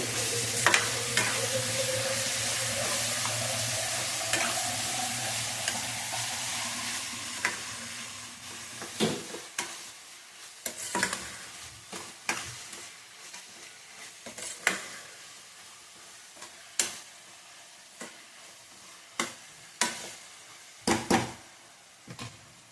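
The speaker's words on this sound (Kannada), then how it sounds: "ಈರುಳ್ಳಿ ಚೆನ್ನಾಗಿ ಫ್ರೈ ಆಗಬೇಕು." Onions fry in a hot pan with a steady hiss for the first several seconds, then sharp scrapes and knocks of stirring take over, close and irregular, against a quieter sizzle.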